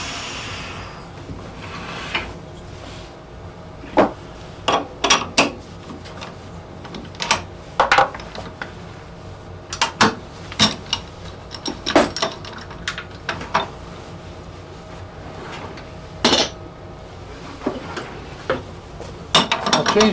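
Chucks being swapped on a wood lathe while turning a spool knitter produce scattered quiet metallic clicks and clunks, some in quick pairs, over a low steady room hum.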